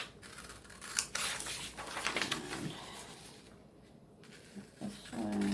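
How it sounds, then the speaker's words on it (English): Scissors snip along the edge of a paper sewing template for a tissue holder, with a run of close, crisp cuts and rustling paper, then a pause and a few more snips. "I have my scissors, and I'm just going to cut along the edge here."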